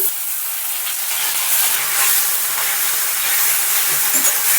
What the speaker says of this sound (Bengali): মশলাটা একটু ভেজে নিচ্ছি